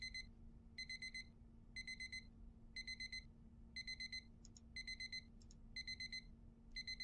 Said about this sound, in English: Turn off the alarm